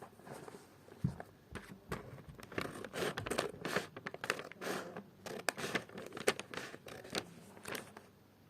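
A wrapped gift package from a friend is torn open by hand, giving close, irregular bursts of crinkling, rustling and tearing wrapping that continue for several seconds without speech.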